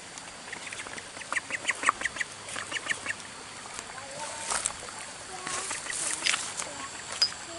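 Ducks bathing in a river give repeated nasal quacks in irregular bursts, some close and loud, with water sounds and people chatting nearby.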